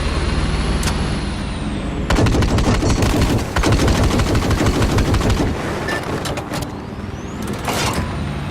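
Sustained machine gun fire in a Battlefield 4 Rush match on Paracel Storm, rapid bursts rattling loudly over a constant background of wind and battle rumble, with distant single shots and explosions mixed in, no talk.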